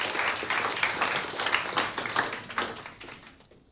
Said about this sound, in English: Can I have a round of applause for Associate Professor Anina Rich?